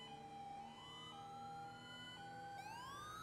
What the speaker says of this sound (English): Listen to that funny little horn.